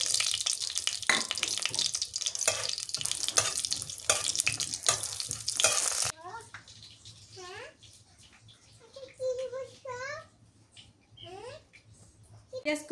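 Cumin seeds sizzle in hot mustard oil in a pan while being stirred, a dense crackling hiss for the first half that then stops. Brief talk follows over faint background sounds.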